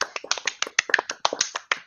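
Rapid, sharp claps of applause ring out about fifteen times in under two seconds, close to the microphone and in a fast, steady rhythm.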